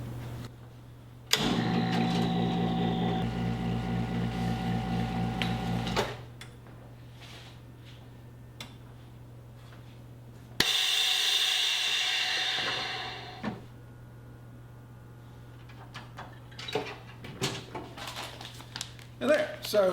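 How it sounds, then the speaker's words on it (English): A VEVOR chamber vacuum sealer runs while sealing chicken in 10 by 13 bags. A loud, steady pump drone lasts about five seconds, then a shorter burst follows, with quiet clicks and handling noises in between. "Turn our vacuum sealer on."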